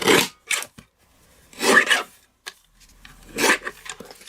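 Paper being trimmed for a floral easel card, three separate bursts of rasping, rubbing strokes close by, with short pauses and a faint click between them.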